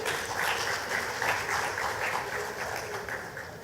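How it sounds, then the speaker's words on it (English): An audience at a Grenada cultural and creative industries conference gives a round of applause on the final day, a sustained, even crowd of clapping throughout at moderate distance. "I want to invite you to give yourselves a round of applause for making it to day 3."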